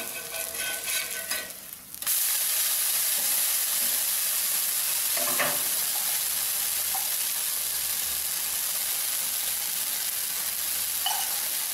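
Wheat dosa sizzles on a hot pan, starting with a brief scraping stir before a sudden jump into a steady, loud hissing fry that lasts to the end, with a couple of faint clinks and no talk.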